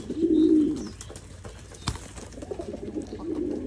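A racing pigeon gives a soft, low cooing call early on, then quieter murmuring coos continue around it, close and without speech.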